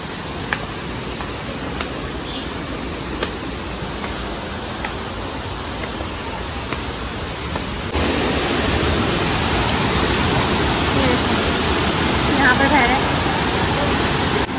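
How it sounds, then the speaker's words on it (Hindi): Kempty Falls waterfall in Mussoorie roars as a steady broadband wash of falling water nearby, growing noticeably louder and fuller about halfway through as the listener moves closer. "झरने की आवाज़ तो आप सुन ही पा रहे होंगे"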